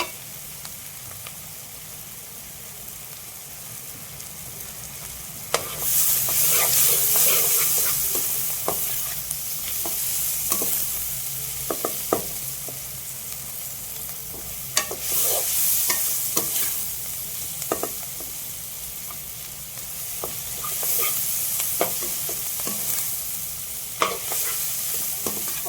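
Chopped onions sauté in a hot pan, a continuous close sizzle broken by repeated scraping strokes of a spoon stirring them, with bursts of louder frying as they are turned.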